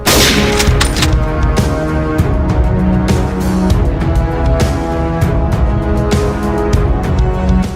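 Gunfire from a sniper rifle in a combat setting in Iraq, a dense stretch of repeated sharp shots and bursts over a steady loud background, close and continuous without any talk.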